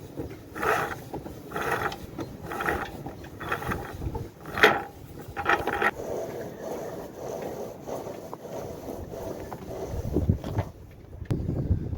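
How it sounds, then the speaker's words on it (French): Gusty wind buffets and rushes for several seconds on a Sun Odyssey 35 sailboat at anchor, mixed with creaking and rattling mechanical noises nearby, with no one speaking. "Le vent commence à bien se lever"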